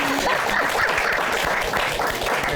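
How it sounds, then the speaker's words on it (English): A crowd applauds steadily at an introduction event, dense clapping holding at a loud, even level from start to finish. "Can we please give them a round of applause?"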